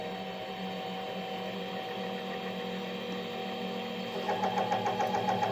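A lathe tool just touching a spinning metal ring and starting to throw chips, a steady machine hum with rapid rhythmic ticking cuts growing louder in the last second.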